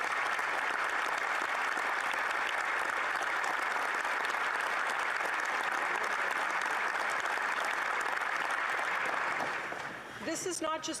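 A large audience applauds in a steady, dense, sustained ovation that holds for about ten seconds before thinning out at the end.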